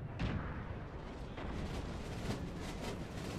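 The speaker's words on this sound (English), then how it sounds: "the Prussians advance into murderous cannon fire by the young guard batteries and fire from the fort as well" Artillery batteries firing cannon in a Napoleonic-era battle of the Napoleon Total War video game, a dense continuous rumble of booming shots with sharp bursts near 0.2, 1.4 and 2.3 seconds, loud and steady throughout.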